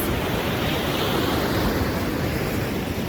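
Black Sea waves wash onto a winter beach at Chornomorsk as a loud, continuous roar of surf close by, with wind noise mixed in and no voices.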